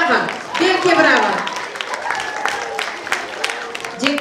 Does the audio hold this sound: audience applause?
yes